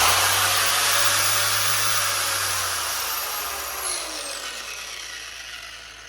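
A power sander with 400 grit paper works the paint of a 1974 GMC Suburban, giving a steady hissing whir that slowly fades and softens. No one speaks.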